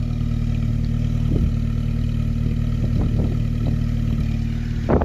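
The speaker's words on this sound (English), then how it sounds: "And the exhaust note." A VW car engine idles steadily with a low exhaust burble and a light mechanical rattle, punctuated by a few brief revs or clunks, ending on a louder blip.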